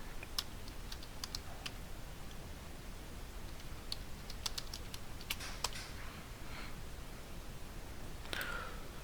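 Someone types on a computer keyboard, entering an administrator username while joining a PC to a domain, producing soft, irregular close-up key clicks with short pauses between bursts and no talk.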